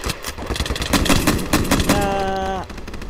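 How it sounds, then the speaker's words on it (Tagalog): Rapid bursts of machine gun fire in Minecraft, a rattling run of close, loud shots layered with game effects and a rising tonal sound near the end. "Ubusin ko yan. Gamit ang machine gun ko."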